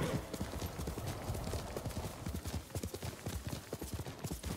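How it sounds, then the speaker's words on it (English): Horse hooves galloping in the video game Ghost of Tsushima, a quick steady clip-clop rhythm running continuously, fairly quiet and close, with no talk. "Right, horse. Here. Behold. You're a good horse, Kage."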